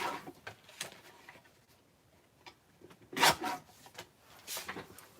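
Trimming excess off a paper card, a handful of short, close scraping and cutting bursts with brief pauses between them, one louder stroke midway.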